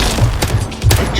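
Nail gun firing in a game advert, a few loud, close bursts of shots in quick succession over a busy game soundscape.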